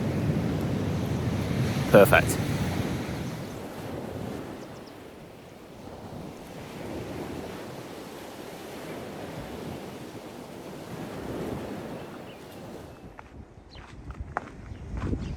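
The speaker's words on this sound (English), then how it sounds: "Got a nice sea breeze, just keeping me cool." A sea breeze rushes over the microphone above the waves by the cliffs of Malta, with soft surf and a few footsteps in a steady wash; a voice speaks briefly.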